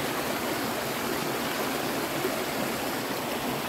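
River water in Appalachia rushes past in a steady, even roar, a dense continuous wash of flowing water heard close and alone without pauses.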